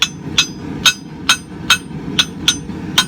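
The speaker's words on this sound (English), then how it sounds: "Spread it out with a cross peen." A cross peen hammer forges a small Viking axe pendant blade, about nine sharp, ringing metal strikes at a steady moderate pace, close and clear.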